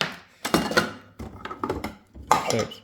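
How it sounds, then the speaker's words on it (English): Cheese being grated with the blue cutter of a Kmart 5-in-1 salad maker, heard as three separate bursts of hard plastic rattling and scraping, close and fairly loud, with short pauses between. "So let's try blue cutter for cheese."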